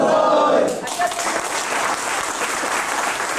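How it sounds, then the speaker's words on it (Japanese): Applause at a 1998 retirement ceremony at Toshiba's Osaka factory: a brief voice gives way to full, sustained clapping from a large gathered crowd, dense and even throughout. "もう一度大きな拍手で釜山さんをご祝いしたいと思います"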